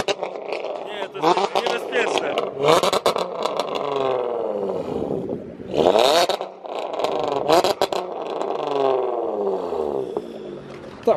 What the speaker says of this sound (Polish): Posłuchajmy wydechu.